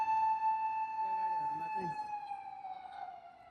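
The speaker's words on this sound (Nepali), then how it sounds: "यहाँ चाहिँ यसरी साइरन बजार हिँड्ने चाहिँ कस्तो हुन्छ" A steady electronic vehicle siren tone holds and then slowly fades, with a brief voice partway through.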